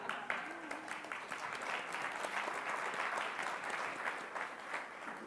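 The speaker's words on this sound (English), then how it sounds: "Don't applaud for too long." An audience at a Sister Cities Summit culture panel in Dublin breaks into steady, fairly faint applause that swells slightly in the middle, with some voices murmuring underneath.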